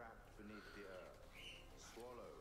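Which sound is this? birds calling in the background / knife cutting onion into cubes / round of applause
birds calling in the background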